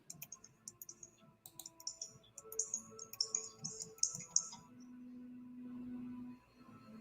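Computer mouse clicks during a video call, a run of crisp, fairly faint clicks and taps at close range, followed by a low steady hum.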